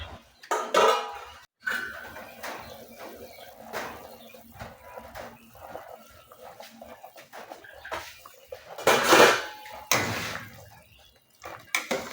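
Metal clanks and clatters of cookware, a couple of sharp knocks like a lid set onto a pot of simmering pork rib stew, with quiet gaps between.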